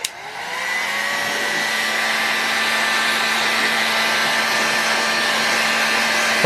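A torch heats a metal engine casting to free a stuck sleeve, giving a steady loud roaring hiss that starts with a click and holds evenly for several seconds, alone without talk.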